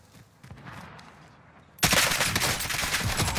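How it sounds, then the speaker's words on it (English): An AK rifle in Call of Duty Warzone fires a loud sustained burst that cuts in abruptly after a quieter stretch of game ambience and carries on to the end. "Dude, this AK literally just rips."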